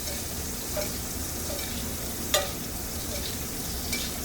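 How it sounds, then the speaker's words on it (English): Wood-fire-roasted broccoli sizzling in a pan as hot oil is basted over it, a continuous close frying hiss with light scraping and one sharp clink. "we're just going to keep basting over and hit our broccoli with the hot oil"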